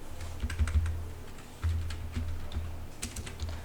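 Fingers tap out code on a computer keyboard in quick, uneven bursts of crisp clicks, close and clear, with a heavier thump or two from the larger keys and no speech.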